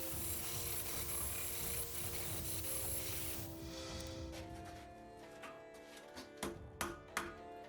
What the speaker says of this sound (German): Mit der Flex schleife ich wieder den Zund und das Borax an